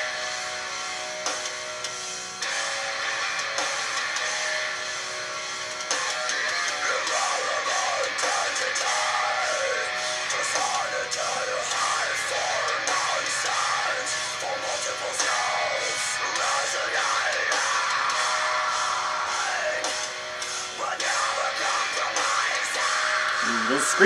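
Harsh screamed metal vocals from a song ring out over dense, loud distorted guitars and drums, sustained and continuous throughout, with a listener's voice occasionally talking over the music.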